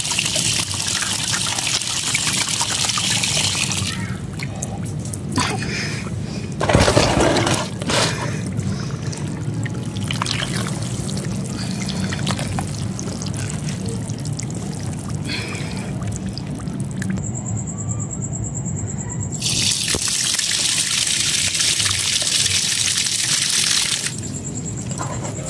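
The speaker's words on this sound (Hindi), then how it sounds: "मैं इसमें पानी डाल दिया, इसको बस चेक करेंगे।" Water is poured steadily into a mud paste being mixed by hand, giving a continuous close-up splashing trickle that runs throughout without speech and briefly swells louder near the end.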